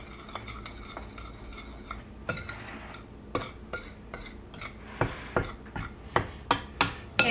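A utensil stirs biscuit dry ingredients with baking powder in a bowl, producing repeated clinking scrapes against the sides that grow more regular and louder toward the end.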